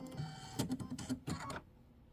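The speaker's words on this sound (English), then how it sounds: "And it just did 2 stitches, so I'm just going to start right where it is." An embroidery machine working a satin-stitch border on a 5x7 hoop door decor project, giving a few short bursts of mechanical stitching, close and fairly quiet, then falling silent.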